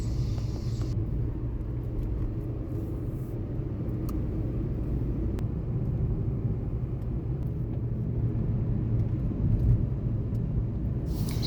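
A car cruises at an easy pace along a high mountain road above distant villages, giving a steady, continuous low engine and road rumble throughout with no voices.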